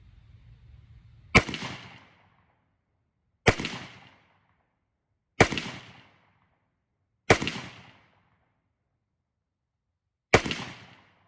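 Five loud, sharp rifle shots from a Springfield Saint Victor fitted with a muzzle brake, each a hard crack with a short ringing decay, spaced about two seconds apart with silence between them.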